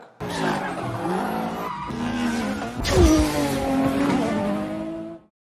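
A car on a track in a racing video game revs hard with a loud, rising engine whine and squealing, skidding tires, then cuts off abruptly.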